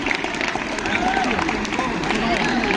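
An audience at a Meghalaya academic gathering keeps up steady, dense clapping for a seated guest speaker, with crowd murmur and some voices mixed in the continuous applause.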